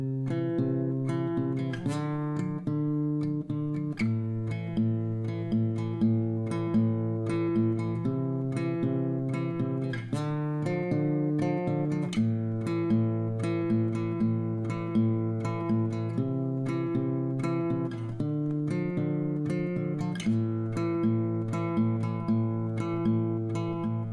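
Acoustic guitar repeats the strummed verse pattern of a song, with steady rhythmic chord strokes that loop several times, played alone and close.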